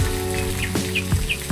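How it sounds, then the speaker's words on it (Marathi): Light monsoon drizzle patters softly around a house in a residential colony in Marathwada, with scattered drips and a few bird chirps over a steady damp hiss. "आज सकाळी पण रिमझिम पावसाची चालूच आहे"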